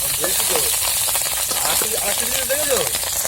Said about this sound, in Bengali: এখন মাছগুলো সুন্দরভাবে ভেজে নেওয়া হবে